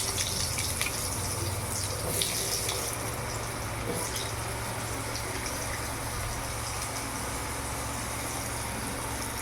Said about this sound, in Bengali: এবার আমি আলুটাকে ভেজে নেব।